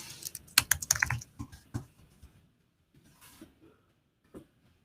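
Login password typed on a computer keyboard, a quick run of close, crisp key clicks in the first two seconds, then a few scattered taps after a pause, with no talking.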